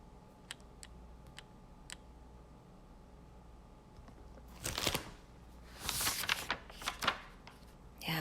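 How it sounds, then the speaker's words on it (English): A few soft clicks, then rustling paper sounds of a page being turned, close and quiet against a faint background hum. "like maybe you heard my page turn"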